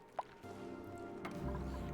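Water rises through a pipe in a factory-building video game, giving a faint drip and a soft liquid gurgle over a low steady hum.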